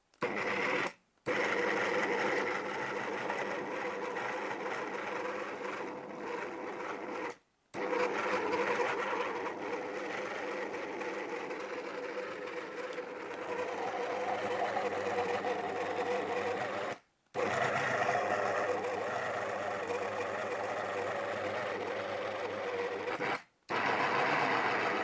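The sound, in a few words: electric food chopper chopping ingredients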